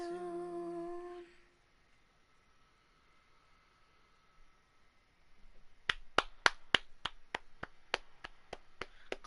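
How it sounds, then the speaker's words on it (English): Sharp, separate hand claps ring out about a dozen times in a fairly quick, uneven rhythm, following a short musical tone and a quiet pause. "clap it up."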